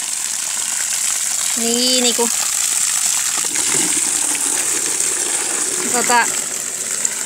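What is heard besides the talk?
water gushing from a cottage well pump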